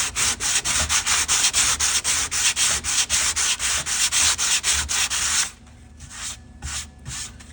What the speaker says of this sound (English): Once cooled, it can be sanded.